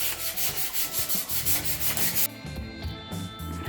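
A bicycle part being hand sanded for repainting, quick rhythmic back-and-forth rasping strokes, close up, then a brief pause and softer scraping.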